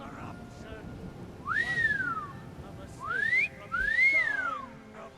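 In the Skyrim video game, a horse whistle is blown three times: rising-then-falling whistled tones, with the second and third close together, heard over a faint background.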